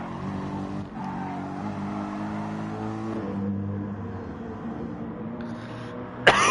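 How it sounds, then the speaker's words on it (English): A GR Supra racing car in Gran Turismo Sport, racing at Autopolis, drones with a steady, loud engine note that shifts pitch through the gears, ending with a sudden sharp burst of noise. "This is the GR Supra racing car."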